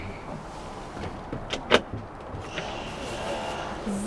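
A small hatch door on a 2021 Ford Transit camper van is opened, giving a short, sharp latch click and clack that stands out against a quiet interior. Faint room noise comes before and after it.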